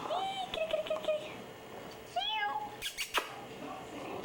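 A kitten gives two drawn-out meows, the second higher and wavering, close by in a quiet room, with a few soft knocks between them.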